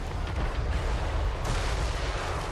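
Booming artillery fire in Total War: Warhammer 3, a thick continuous rumble of distant cannon blasts and battle noise with no clear speech.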